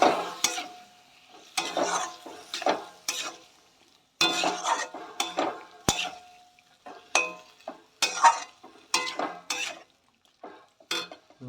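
Ground spices including turmeric fried in a pan with a splash of water, heard as a series of close, sharp metal spatula scrapes and clinks in irregular bursts over a light sizzle, with quiet gaps between strokes and no speech.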